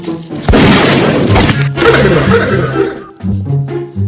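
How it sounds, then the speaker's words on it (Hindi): Gunfire with a loud boom and sustained crashing roar fills the scene, echoing and dense, with a few later thumps; a voice speaks under the noise briefly. "चाचा यार गोलियां चल रही हैं यार।"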